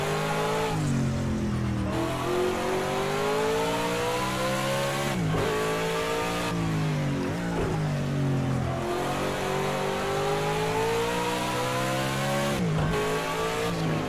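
A 1991 DTM race car in Project CARS 2 qualifying revs and accelerates continuously, its engine note climbing through the gears with brief drops at each shift. The sound is loud and sustained, with no voices.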